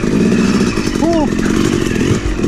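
A Yamaha YZ 250 two-stroke dirt bike runs in the snow, a loud close buzzing engine drone with a brief rising pitch sweep, overlapped by someone talking.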